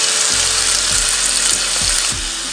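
Potatoes fry in hot oil in a pan, giving a loud, steady, dense sizzle that runs without a break, with a few dull knocks of a utensil against the pan underneath.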